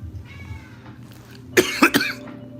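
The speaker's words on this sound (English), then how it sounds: "No, that was a cat." A short, close cat meow in a home kitchen during dinner preparation, a couple of quick vocal bursts after a quiet stretch.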